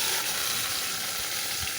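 Fried tempering added to mashed dal for a cucumber dal dish, giving a soft, steady close sizzle that hisses on without pause and without talk.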